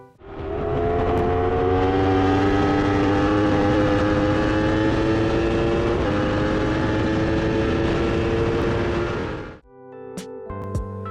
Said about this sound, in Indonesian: Desain knalpot Yamaha R1 dirancang khusus untuk memaksimalkan suara khas dari mesin crossplane ini.